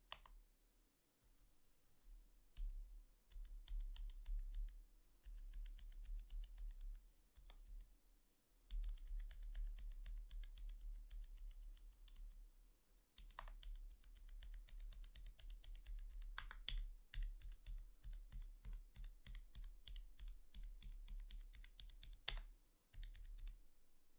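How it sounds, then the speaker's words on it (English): Bare switches on a Drop Alt low-profile mechanical keyboard with its keycaps removed, typed on in steady bursts of close, sharp clicks and clacks with short pauses between runs. "See if I could type without keycaps."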